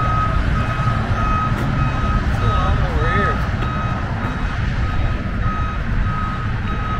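A vehicle's reversing alarm beeps steadily at a driving obstacle course in Ohio, repeating over a loud, constant engine rumble, with voices talking nearby.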